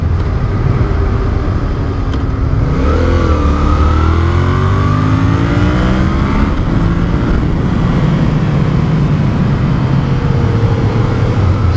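A 2016 Yamaha XSR700 motorcycle engine revving on a test ride, loud and close with rising and falling pitch sweeps as the throttle opens and eases off over a constant rumbling drone.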